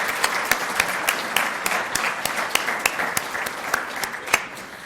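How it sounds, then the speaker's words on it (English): Guests at a scholarship luncheon give a steady round of applause. The dense patter is marked by a few louder individual claps that punctuate it at intervals across the full stretch. "Let's give them a round of applause."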